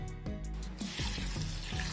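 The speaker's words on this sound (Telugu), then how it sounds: "ఇట్లా మంచిగా గట్టిగా పిండుకుంటూ ఈ పొట్టునంతా కడిగేసుకోవాలి" Ridge gourd peels being washed and squeezed by hand in water, with a steady close splashing, sloshing rush that continues throughout with brief wet squelches.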